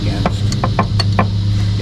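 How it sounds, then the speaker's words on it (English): A wrench bangs against a metal shield beneath a motorhome during brake hose removal, giving about six sharp metallic knocks in an irregular rhythm, close up over a steady low hum. "there's a shield that I'm banging the wrench against"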